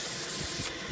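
Spray silicone hissing from an aerosol can onto RC car tires, one steady, close, fairly soft burst of spray with no talking.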